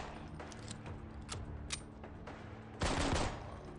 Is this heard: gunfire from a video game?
yes